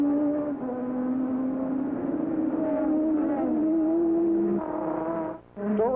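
Formula One cars, including Ferrari, at the 1985 Canadian Grand Prix scream steadily at high revs, engine pitch sliding and rising through gears as they race past, with a brief drop near the end.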